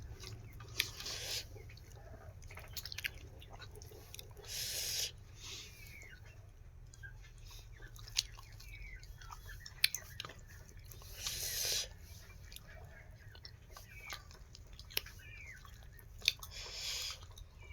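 Someone chews hot dhindo close to the microphone in soft, irregular bites and wet mastication sounds, with brief louder bursts between quieter stretches.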